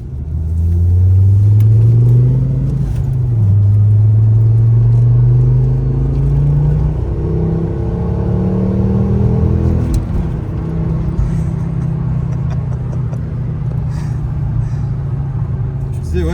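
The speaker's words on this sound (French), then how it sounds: "le 5 cylindres, il est quand même un peu plus rauque" A Ford five-cylinder car engine revs repeatedly, its raspy tone rising and falling in pitch, with a steady low rumble beneath and people talking over it.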